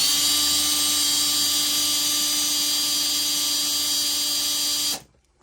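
A Makita cordless drill whines at high speed, a steady loud motor tone with sharp harmonic overtones, then the trigger releases and it winds down abruptly to near silence.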